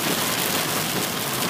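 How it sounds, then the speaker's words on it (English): Heavy rain pours against studio windows, a dense, steady hiss that stays loud and continuous throughout with no voices. "Rain pouring against the windows here at the studios."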